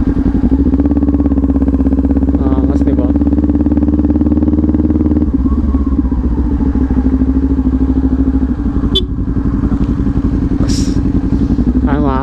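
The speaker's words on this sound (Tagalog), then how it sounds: "May mga naka big bike, di ba?" Big bike motorcycles pass by at a Christmas tree attraction in Villar City, Cavite, a steady loud engine drone with rising revs and clatter, close and continuous, with people talking over it.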